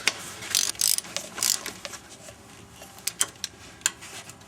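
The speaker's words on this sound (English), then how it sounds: "work all the bolts down evenly" A ratchet tightening the intake manifold bolts on a Subaru engine gives rapid clicking bursts with short pauses between strokes, crisp and close, with no one speaking.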